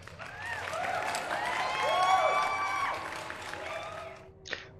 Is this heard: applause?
yes